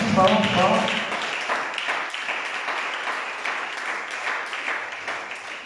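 A church congregation applauds and cheers together, a dense wash of many hands clapping steadily that starts loud and eases slightly over a few seconds, with a voice briefly audible at the start.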